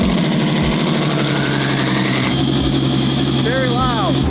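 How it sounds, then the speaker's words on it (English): A V12 car engine idles loudly and steadily after a cold start with a deep rumble, while people talk over it throughout. "Speaking of V12s, cold start, this car is absolute madness."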